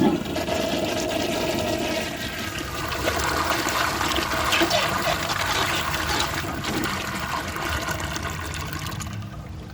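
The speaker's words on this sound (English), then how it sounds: "This toilet has an awesome flush." A 1976 Crane Whirlton commercial toilet flushes with a loud, steady rush of water that runs for about ten seconds and tapers off at the end without a siphon gulp.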